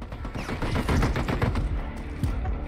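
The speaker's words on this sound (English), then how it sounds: "Why are you shooting me, bro?" Rapid video game gunfire from a teammate's weapon, a dense burst of repeated shots rattling loudly and continuously, then tapering off near the end.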